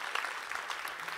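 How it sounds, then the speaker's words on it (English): A short, faint patter of audience applause for a guest speaker at a church service, steady and distant for about a second. "Can you give him a round of applause?"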